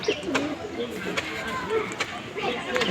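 Pigeons in a loft of tournament Madrasi birds give low, soft repeated coos close by, partly under someone talking over them.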